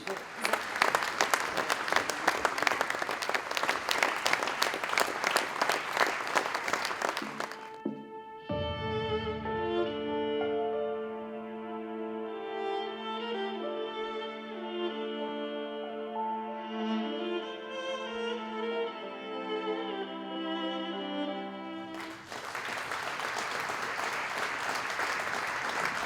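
Audience applause at a formal sports awards ceremony for a Bloudek plaque recipient, a dense, loud clapping burst that stops abruptly as music takes over, then returns just as strongly near the end.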